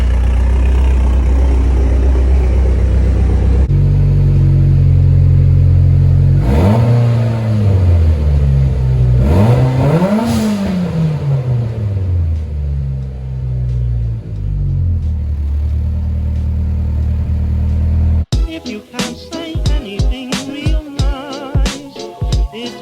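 A car engine on a test drive after an alternator problem, starting as a loud steady rumble, then rising and falling through two revving pulls before settling, with sharp clicking knocks near the end.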